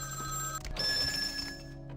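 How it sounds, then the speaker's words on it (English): Telephone ringing inside a haunted hotel in a horror video game, a thin electronic trill that starts, briefly breaks off and resumes at moderate level over a low ambient hum, with no talking. "telephones start ringing when you're near them"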